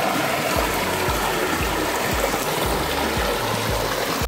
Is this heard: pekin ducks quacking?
no